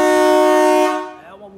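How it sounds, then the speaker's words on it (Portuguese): A dual marine air horn fitted to a Chevrolet Spin car blasts one loud, steady, piercing tone for about a second, then cuts off and leaves a brief fading echo. "É uma buzina forte demais"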